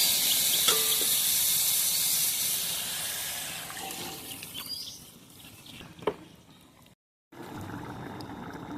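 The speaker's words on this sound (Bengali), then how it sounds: "এখন আমি সিদ্ধ হওয়ার জন্য ঝোলের পানি দিয়ে দেবো" Water poured from a vessel into a pan of chicken and red amaranth curry, a bright splashing stream that fades into quieter sizzling and simmering, with a brief clatter and a short cut near the end.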